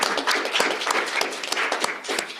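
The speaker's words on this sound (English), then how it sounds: "So I think he deserves a big round of applause." Audience applause at an annual meeting: a sustained round of dense clapping from a room full of people, steady and fairly loud throughout with no talk over it.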